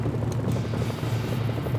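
A helicopter in the video game Mercenaries: Playground of Destruction gives a steady, low, rumbling rotor drone that holds evenly through the short stretch, with no voices.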